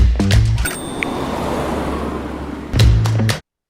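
A ka-ching cash register effect: a cluster of short metallic dings and clicks, then a drawn-out rattling, whooshing slide, ending with a second burst of clanks and a sharp cutoff, loud and close.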